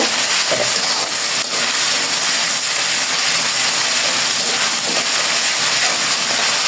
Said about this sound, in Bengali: দিয়ে দিলাম 2 চামচের মতো আদা রসুনের পেস্ট। রসুনের পেস্টটা ভালো করে ভেজে নিব।